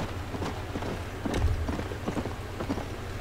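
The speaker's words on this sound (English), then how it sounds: "Come on, keep going. Keep going, horsey." Horse hooves clip-clopping at a gallop in the video game Red Dead Redemption: Undead Nightmare, a quick rhythmic patter of hoofbeats at moderate loudness with no talk.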